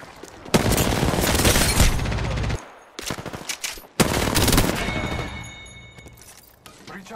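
Rapid automatic gunfire crackles in the battle royale shooter Apex Legends, long loud bursts broken by brief pauses and a sharp shot, close and dense, with someone talking over the action.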